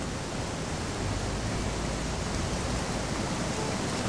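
A waterfall in Risen 2 roars as a steady, broadband wash of rushing water, loud and unbroken throughout with no other sounds above it.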